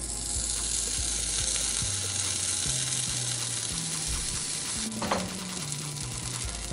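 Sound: butter sizzling in a frying pan for sandwiches

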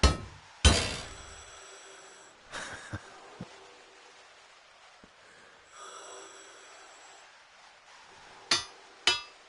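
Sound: hammering to fix things, from the video game Mars Odyssey

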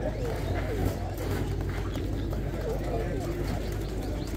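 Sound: pigeons cooing at a bird market

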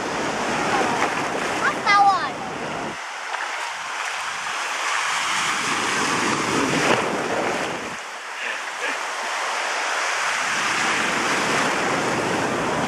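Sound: sea waves at a beach

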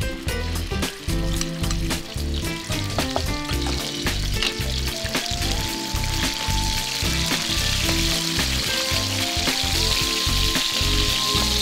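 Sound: diced chicken frying in hot sesame oil in a wok

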